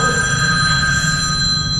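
A telephone bell rings steadily and fairly close, a bright sustained electronic trill filling the moment with no talk over it.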